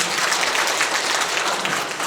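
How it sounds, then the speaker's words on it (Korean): Audience applause at a redevelopment briefing session in Doksan-Siheung, a steady, dense wash of clapping from a crowd that stays even in loudness throughout. "많은 박수 부탁드리겠습니다."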